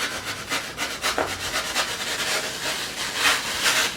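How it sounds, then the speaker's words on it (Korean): A blade saws through a block of urethane foam, cut into small pieces for a preserved-flower glass dome; steady scratchy rubbing strokes, close and fairly loud, with no talking. "우레탄 폼을 잘라 보도록 할게요."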